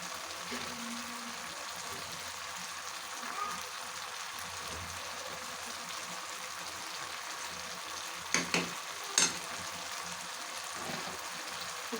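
Hilsa fish chachari frying and being stirred in a pan, giving a steady, quiet sizzle throughout with a few brief scraping clatters of the spoon near the end.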